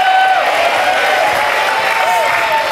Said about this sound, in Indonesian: Oke, tepuk tangan dong buat Esti nih.